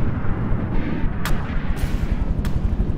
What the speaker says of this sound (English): Yep, that's definitely a heavier cannon type.